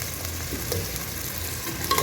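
Onions and green chillies fry in a pan for mutton gravy with a steady, close sizzle, while occasional stirring scrapes and clinks sound over the continuous crackle.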